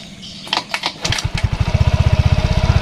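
A Yamaha Mio Soul 125 scooter engine cranks with a few short starter bursts, then catches and settles into a steady, rapid idle pulse close by, just after a rear wheel bearing replacement.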